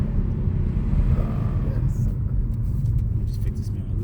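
A Kia Stinger with a homemade aftermarket intake revs and rumbles nearby, a deep steady engine drone, loud and close, with some background noise from a car meet.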